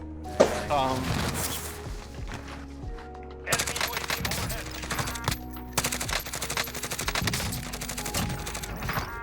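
Grau assault rifle fire in the game Warzone, rapid bursts of automatic shots in quick succession with short pauses between, up close under a voice talking.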